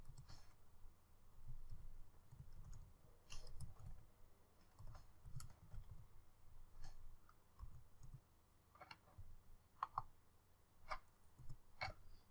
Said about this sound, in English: So let me type another location name.